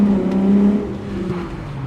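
A 1990s Volkswagen Golf VR6 engine hums and revs in Casablanca traffic jams, a close, loud, resonant low drone with a brief rise in pitch before settling.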